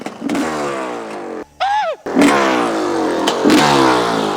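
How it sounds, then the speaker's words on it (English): A 1985 Honda CR500 two-stroke dirt bike with a tiny muffler fires up and revs hard, loud close-range engine roars broken by a brief drop and a short whine before the revving resumes strongly. "So let's fire it up for you guys because you got to see to believe."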